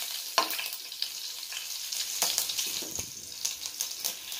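Chopped onions fry in an oiled pan for kanda poha, giving a constant sizzling crackle with irregular stirring scrapes and clatters throughout.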